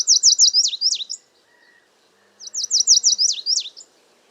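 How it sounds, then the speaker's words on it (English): Lazuli bunting song, a migratory bird heard in California from April through summer: two bright, rapid bursts of high, sweet chirps, each lasting about a second, separated by a short pause and heard clearly with no talk. "lazuli buntings have a lovely song"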